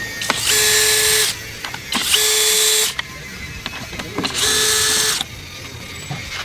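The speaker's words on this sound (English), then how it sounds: "there's 4 of these T40s on each side of the grill. So we're going to take those off really quick." A power driver spins out T40 Torx screws from the grill of an Ineos Grenadier, three loud whirring bursts of about a second each separated by quiet gaps with small clicks and clatter.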